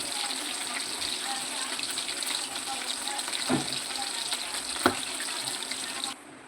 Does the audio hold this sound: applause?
no